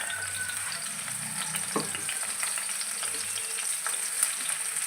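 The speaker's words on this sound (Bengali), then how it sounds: "আমার পেঁয়াজ রসুনগুলো ভাজা হয়ে গেছে।" Garlic, chopped onion, dried red chili and a green chili fry in a pan, giving a steady close hiss and sizzle with small crackles and no talk.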